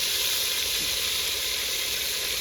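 Secret masala spice mix hitting a hot pan, giving a steady, close, loud sizzle and hiss that holds without a break and with no talk over it.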